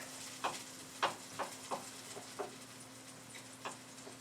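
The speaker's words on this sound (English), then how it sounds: "Zucchinis are cooking." Zucchini cooks quietly in a pan while making the chicken pesto dish, a faint low sizzle broken by a handful of soft, irregular clicks and taps from a utensil.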